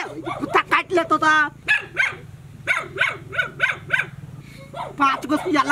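Barks and yips from a dog are mixed with excited human voices in a rural home courtyard, overlapping the talk in short bursts.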